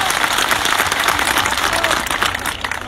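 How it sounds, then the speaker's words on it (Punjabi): A crowd at a Bhagwant Maan AAP political rally breaks into applause, a dense, lively burst of many hands clapping with faint crowd noise mixed in, easing slightly toward the end. "ਤਾੜੀਆਂ ਮਾਰ ਕੇ ਹੌਸਲਾ ਵਧਾਓ ਸਾਡੀ ਵੀ"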